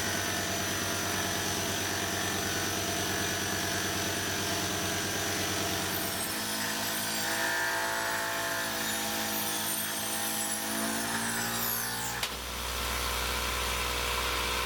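A CNC mill runs a Superfly fly cutter through a facing pass at 28 inches a minute and 70 thou depth, producing a loud, continuous droning hum with steady tonal whine and a brief shift in pitch near the end, no talk.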